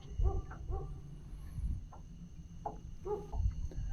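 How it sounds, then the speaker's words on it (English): A dog barks outdoors at night beside the Ohio River, a few sharp barks at irregular intervals over a steady low rumble of background noise. "That dog, he's barking at a ghost."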